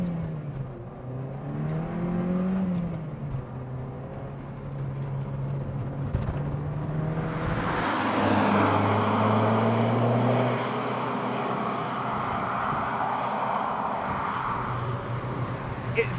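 A Saab 900 Carlsson turbo with 180 horsepower pulls away under acceleration, its engine note swelling steadily and staying loud from inside the cabin, with a rising whine of turbo and gearing.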